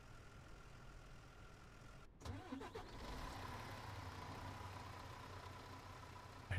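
A fire engine starts up in the firefighting video game Into the Flames: a short crank followed by a steady mid-pitched engine idle that continues quietly to the end.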